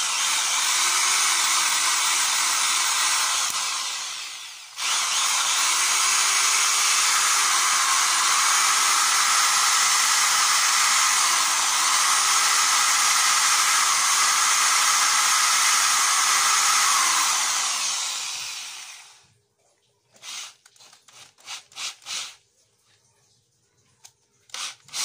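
A repaired electric hand drill with a fixed helical gear fault runs on test, giving a loud, steady whine that dips briefly once and continues for about fifteen seconds before stopping, followed by a few short clicks and bursts.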